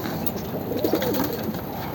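A pigeon, one of a home-kept flock bred from 70-kilometre tournament racing stock, coos steadily and close by over a constant background hiss for about two seconds, with no talk.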